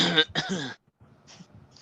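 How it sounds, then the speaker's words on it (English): A couple of sharp, close coughs in quick succession, followed by a quieter throat-clearing rasp. "Why are you coughing,"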